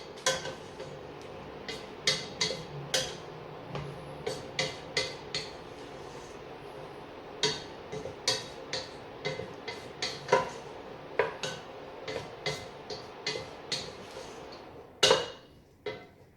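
Tomatoes stirred in a soup pot for lentil soup, a run of sharp metal clinks and taps against the pot at irregular intervals, close and fairly loud over a quiet background, with no talking.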